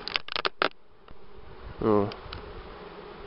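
Honey bees buzz inside a trap hive, a sustained nearby hum with a louder swell midway, preceded by a few sharp knocks and a brief voice.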